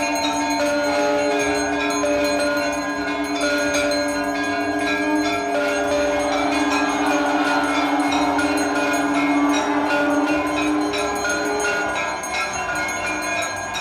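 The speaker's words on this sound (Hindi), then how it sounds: "शंख बजने लगता है" Temple bells ring continuously with sustained tonal ringing through a celebration marking the birth of Lord Ram, a steady dense wash of chiming and resonant tones that stays loud throughout without speech.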